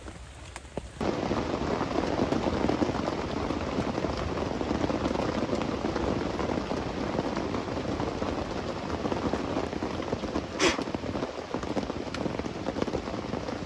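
Heavy rain pours steadily on a campsite in a Kalimantan forest, a dense and even hiss of drops on surfaces that starts abruptly after a brief quieter moment and carries on without voices.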